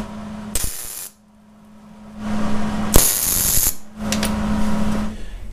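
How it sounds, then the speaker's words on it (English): Two short tack welds joining the halves of a steering shaft: brief bursts of harsh crackling arc noise separated by a steady electrical hum, close by, with no one talking. "So here's the two tack welds on opposing sides."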